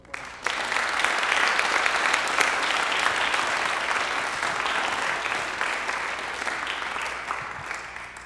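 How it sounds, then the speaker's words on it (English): An audience at an honor society induction ceremony claps steadily for about eight seconds, a dense, even wash of applause that starts abruptly and slowly tapers off at the end. "Please give them a round of applause."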